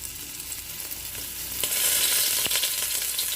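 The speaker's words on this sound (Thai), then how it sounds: "ทอดหอยนางรมแบบไต้หวัน ใส่หอยนางรมลงไปจ้ะคุกคุกกันแป้งทอดกันหน่อย" Taiwanese-style oysters and batter fry in a pan as a Taiwanese oyster omelette, giving a steady close sizzle that grows louder and brighter partway through, with no talking.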